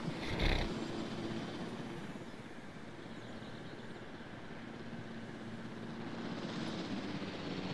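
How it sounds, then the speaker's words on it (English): A helicopter in the dinosaur park game Jurassic World Evolution makes a steady, broad rotor and engine roar that holds at an even level throughout. A brief louder burst comes near the start, and nobody speaks. "Where's the chopper?"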